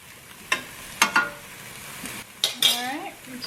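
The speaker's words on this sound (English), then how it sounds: "stirring my fettuccine up" Fettuccine gets stirred in a pan on medium-low heat: several separate scrapes and clinks of a utensil against the pan sit over a quiet, low sizzle, with a short rising voice-like sound near the end.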